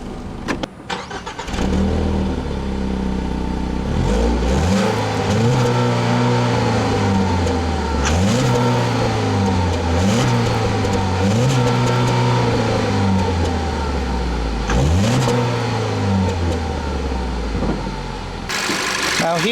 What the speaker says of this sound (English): Now here is the same 2-liter direct injection 4-cylinder engine that was in the 2012 Focus.